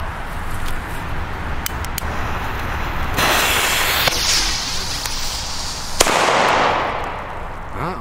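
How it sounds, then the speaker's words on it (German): Sharp firecracker bangs crackle over a steady hiss, with a couple of loud cracks standing out, heard from a moderate distance outdoors. "Knall ist zwar sehr hell. Der knallt wenigstens super."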